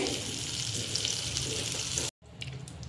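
Butter sizzles in a pan of cooked chopped vegetables for pav bhaji, a close, steady frying hiss that cuts off abruptly, then resumes more softly.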